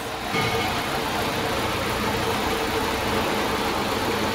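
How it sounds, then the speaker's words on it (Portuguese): A warm car engine idles steadily, giving a constant, moderately quiet mechanical hum and hiss with no revving or other sounds. "O motor tá quente e, em funcionamento. Ele está funcionando, escuta."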